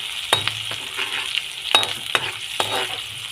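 Shrimp paste (alamang) sautés in a pan, a close sizzle punctuated by several loud scraping stirs and metallic clinks of the spatula at irregular intervals, no one speaking.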